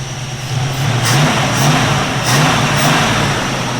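A loud, close 351 V8 engine in a 1969 Ford Mustang Mach 1 with Flowmaster Super 10 mufflers idles with a deep rumble, its revs rising in several short bursts before settling back.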